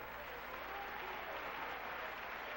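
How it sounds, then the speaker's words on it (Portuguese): A church congregation applauds during a sermon, a dense and even wash of clapping that holds steady throughout at moderate distance. "Aplauda o Senhor."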